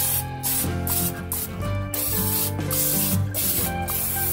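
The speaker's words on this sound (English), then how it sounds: "even though I've got a liner, I'm still going to spray it" Cooking spray hisses into a crock pot liner in several short, loud bursts separated by brief pauses, close up with no talking.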